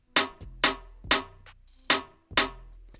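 Build-up snare sample for a moombahton track in FL Studio: five crisp, loud snare hits at an even pace over a low bass hum, played alone.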